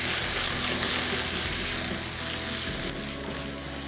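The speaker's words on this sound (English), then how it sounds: "Now you want to cook the garlic and ginger a little bit with the spring onions" Onions, ginger and garlic stir-frying with bacon in a pan for a spicy bacon chilli fry, a steady broadband sizzle close up with faint stirring, no talk.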